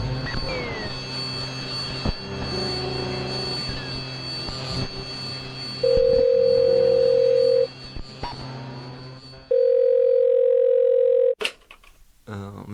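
A steady telephone dial tone sounds in two long, even bursts separated by a short gap, clear and fairly loud over a murky background with faint voices and noise.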